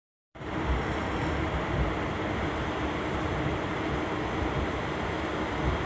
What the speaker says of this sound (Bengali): চলুন আবার ট্রেন ছাড়ুন